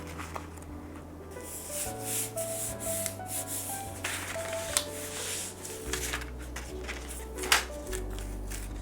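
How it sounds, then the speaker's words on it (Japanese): Wallpaper being applied and smoothed by hand onto thin cardboard for a display case, a steady close rubbing and sliding with small taps and crinkles over a low hum. "そしたら壁紙を貼ります。"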